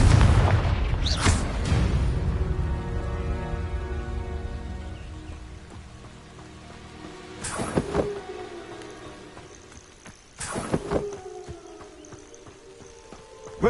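Confringo fire spell explosions in the video game Hogwarts Legacy, a heavy blast at the start followed by two more sharp booms later, each with a ringing, fading tail over quieter ambience.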